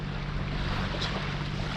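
A sailboat motoring under engine on a flat, calm sea off the Marseille coast, heading from Sormiou toward Porquerolles: a steady low engine drone with wind and water hiss, constant and unbroken, no talk.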